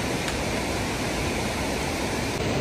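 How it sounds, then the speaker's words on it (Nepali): A mountain river on the North Annapurna Base Camp trek rushes nearby in a loud, unbroken roar of churning water that fills the whole stretch. "खोला नजिकै बसेर हामी कुराकानी गरिरहेछौँ"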